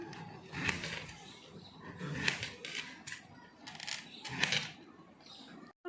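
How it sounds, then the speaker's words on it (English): A knife slicing through a vegetable during a school cooking demonstration, heard as a few distinct crisp cutting strokes spaced about two seconds apart, close and moderately loud, with soft rustling between them. "And we'll make a slice cut of this."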